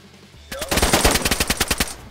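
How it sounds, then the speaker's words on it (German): Rapid burst of automatic machine gun fire in the video game DayZ, a sharp string of close, loud shots with no talking over it. "Schuss von hinten rechts"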